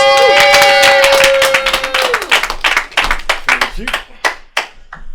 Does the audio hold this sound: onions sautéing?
no